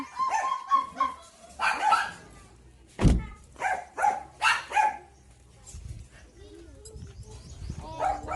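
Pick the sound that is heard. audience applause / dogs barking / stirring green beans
dogs barking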